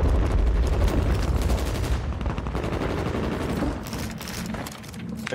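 Sustained rapid gunfire in a competitive shooter match, dense overlapping bursts of automatic fire that stay loud and continuous throughout.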